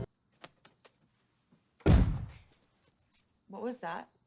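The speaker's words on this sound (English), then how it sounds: "there's a bang at the door!" A heavy bang at a door in the horror comedy film Zombeavers lands as one loud, booming thud that rings out and fades, after a few faint ticks, followed by brief startled voices.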